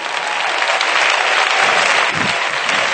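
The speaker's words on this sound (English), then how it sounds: "Oh, let's clap our hands and give him praise." A church congregation claps in praise during a sermon, a dense, loud, sustained wash of many hands with no speech over it.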